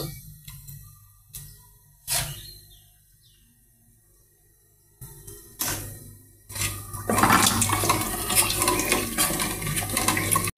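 Water poured into a pot of rice being cooked, a few faint knocks and clinks first, then a steady loud rushing pour that swells and continues to the end, no voices.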